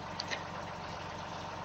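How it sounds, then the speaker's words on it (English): Stock engine of a new fire truck pumper in Farming Simulator 17 idling steadily at moderate level, a continuous even rumble with a couple of faint brief clicks near the start. "here's the new... new-ish pumper for Redwater. And you got this as the stock engine sound"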